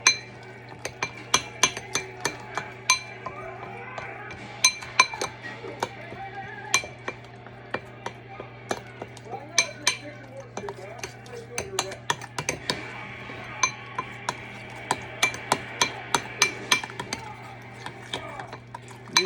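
Metal utensil scraping and clinking against a skillet as flour is mashed into giblet gravy, with irregular sharp taps over a steady low hum, close and fairly loud.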